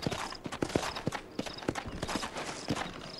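Horse hooves in Red Dead Redemption clip-clop in a quick, uneven rhythm, several animals trotting close by over a hard surface, with no talking.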